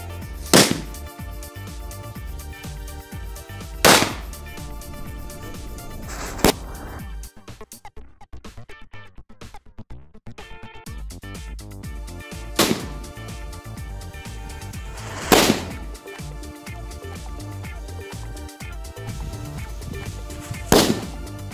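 Small Lakshmi firecracker, a Diwali cracker, bursting in sharp loud bangs at irregular intervals, several separate pops with crackling tails and a quiet gap midway.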